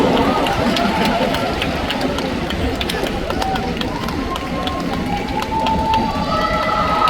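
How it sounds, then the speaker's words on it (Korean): Concert audience in a large venue in Cheongju applauds and cheers, a loud continuous roar of clapping and crowd noise filling the whole stretch without pause. "박수."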